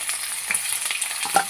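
Onions frying in hot oil while being stirred, a close, steady sizzle broken by scraping stir strokes, with no talk.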